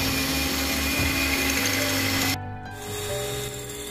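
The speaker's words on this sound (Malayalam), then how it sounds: "അതിനി നല്ല പോലെ ഒന്ന് ബീറ്റ് ചെയ്തെടുക്കണം." Five eggs for a tres leches cake are whipped by an electric beater, its steady motor whine humming loudly for about two seconds before cutting off, leaving a quieter hum.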